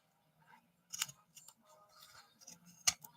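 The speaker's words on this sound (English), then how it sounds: "I'm using my pinking shears on just the corner pieces." Pinking shears cutting the corner pieces of fabric, a few quiet crisp snips and clicks spaced irregularly, with one sharp louder snip near the end, close and otherwise quiet.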